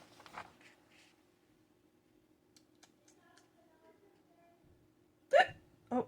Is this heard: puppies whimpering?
no